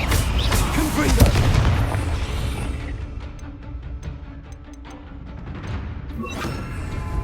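A Confringo spell explosion in the video game Hogwarts Legacy: a heavy, booming blast with rolling rumble, followed by quieter crackles and small ticks as the noise settles, with a voice briefly present.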